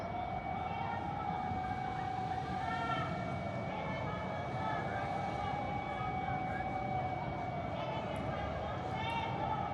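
Air raid sirens wail across Caracas, Venezuela, one long tone slowly rising and falling without a break against a steady rumble of city background.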